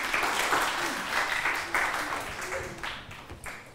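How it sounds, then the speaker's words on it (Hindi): A studio audience at a morning talk show breaks into steady, dense applause, many hands clapping at once throughout, fairly close and continuous with slight swells in loudness. "यार ताली बजा सकते हैं आप लोग, कोई मसला नहीं है"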